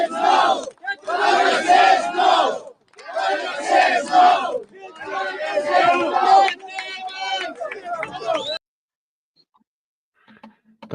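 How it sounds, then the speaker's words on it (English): A large crowd at a live rally in Ireland cheers and roars in loud bursts with short pauses, then falls silent near the end. "That was a great crowd, wasn't it?"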